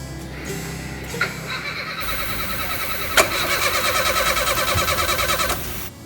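A Renault engine with no ignition spark from a faulty crankshaft position sensor cranks without starting: a brief click, then a loud, rapid rhythmic whirring of the starter turning the engine over for several seconds before it stops.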